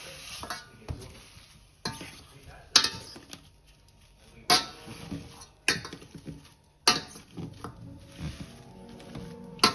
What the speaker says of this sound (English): now we are mashing our potatoes